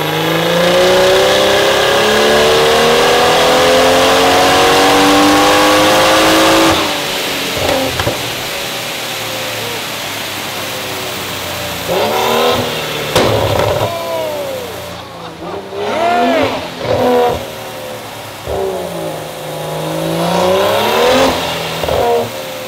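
A Lamborghini engine runs loud and steady, then revs in several sharp rising bursts with pauses between them, with some background talk now and then.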